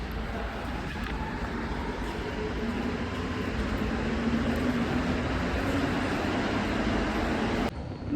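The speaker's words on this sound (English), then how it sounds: "I think I heard a train." A train rumbles past nearby as a steady, dense roar of wheels and carriages that holds at an even loudness for about seven and a half seconds, then cuts off abruptly.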